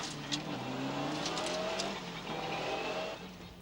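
Onboard a Ford Sierra rally car at the 1993 Cork 20 Rally, the engine drones and shifts pitch under load while gravel and road noise roar around it, suffering an electrical problem that leaves it off the pace.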